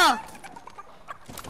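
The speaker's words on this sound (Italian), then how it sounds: "Pollo! Pollo!" A brief run of clucking from a chicken in a video game, short and fairly close, set among other game noise and a voice talking.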